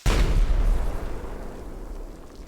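A creature exploding in a modded survival game, one sudden loud close boom that rumbles and slowly fades over a couple of seconds.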